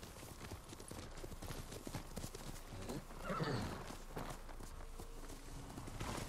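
A horse in the samurai video game Ghost of Tsushima runs with steady, dense hoofbeats throughout, and a loud whinny rises in the middle over continuous game background sound.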